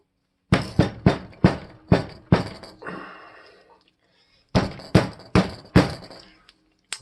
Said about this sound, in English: okay, so you can see how hard that was to close.